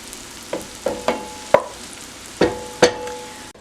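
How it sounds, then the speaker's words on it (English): Zucchini sautéing in a pan over a soft background sizzle, with about six sharp utensil clacks and scrapes against the pan at irregular intervals, close and fairly loud, with no talking. "And I'm gonna saute that until it's tender."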